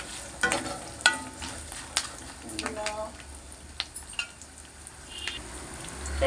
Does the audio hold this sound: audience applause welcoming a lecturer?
no